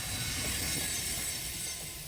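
A freight train climbs a gradient with a locomotive pushing at the rear, producing a continuous loud roar of rolling wheels with a faint hiss and squeal, steady throughout.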